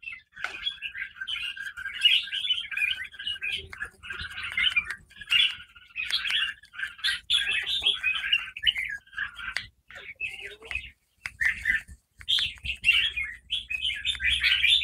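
Caged red-whiskered bulbuls chirp busily, a dense run of bright, rapid tweets and squawks in repeated bursts with short pauses, close and lively, with faint background noise.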